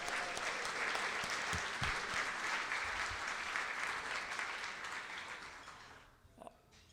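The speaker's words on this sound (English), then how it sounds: "Will you stand and let us all give you a big round of applause and big happy birthday?" Rotary club members applaud birthday celebrants at a meeting, a steady wash of many hands clapping heard from a distance for several seconds before it tapers off.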